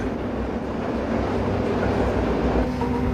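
An underground train runs through the tunnels of the Maginot Line's Hackenberg fort, giving a steady, loud rumbling roar with rattling wheels that holds throughout without a break.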